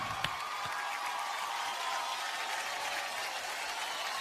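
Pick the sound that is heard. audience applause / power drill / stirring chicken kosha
audience applause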